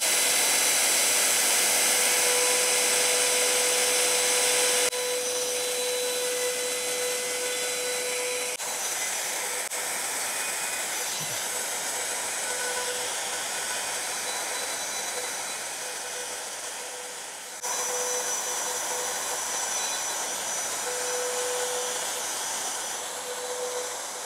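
A handheld wood router carves lettering into wood on a deeper pass, with the bit extended 1.5 mm further. It gives a loud, continuous, high motor whine that dips briefly a couple of times, heard close and with no talk.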